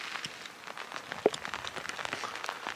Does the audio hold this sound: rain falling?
yes